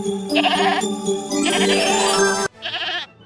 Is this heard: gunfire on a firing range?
no